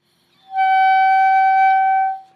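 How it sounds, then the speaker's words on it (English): Clarinet mouthpiece and reed played alone with a small amount of air, producing one steady, loud, piercing high squeak that holds for about a second and a half before stopping cleanly. "Small amount of air with your corners locked and all like this will make a squeaking sound like this."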